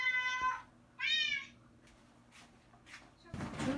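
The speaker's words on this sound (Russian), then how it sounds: "Саша, короче, включил звуки кошки, и Мария подумала, что это Бима орёт." Recorded cat meows played from a device as a prank come in two short, clear calls, followed by quiet room noise and a soft knock or cupboard sound.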